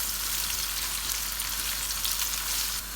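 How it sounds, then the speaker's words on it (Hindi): Sliced onion rings fry in hot oil in a pan for mutton yakhni pulao, a loud, dense, continuous sizzle with no talk, steady until it drops off just before the end. "अनियन को हमने फ्राई करना है।"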